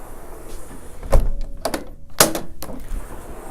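A Marvin sliding door is shut and locked, giving a few solid thunks and sharp clicks with quieter rattles of the panel and latch in between, heard up close with no talking.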